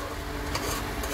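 Whole spices and garlic frying in a pan, a steady close hiss and sizzle with soft stirring scrapes running through it, and no voices.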